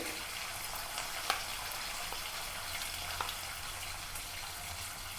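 Ginger garlic paste frying in a pan for pepper tomato rasam, a quiet, even hiss of sizzling oil held throughout, with a couple of faint clicks.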